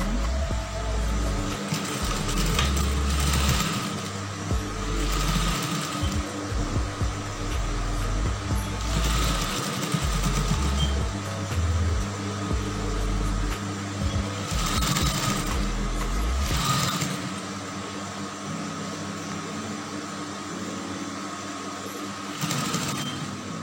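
Sewing machine stitching the waist seam of a brocade dress combined with plain fabric, a close steady motor whir running in bursts with brief pauses between runs.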